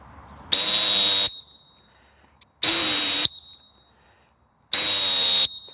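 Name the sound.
coach or referee whistle blown in a distance test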